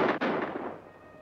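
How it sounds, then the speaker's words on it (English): Gunfire in a 1948 western set in old Los Angeles: two sharp, loud reports in quick succession, the second trailing off in a fading echo, with no voices. "Those were gunshots, all right."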